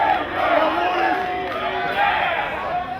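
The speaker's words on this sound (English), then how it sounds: "Harlem Heat chant going up" A wrestling crowd at the Bloodymania 11 event chants a Harlem Heat chant, a loud, rhythmic roar of many voices filling the arena and rising and falling in waves.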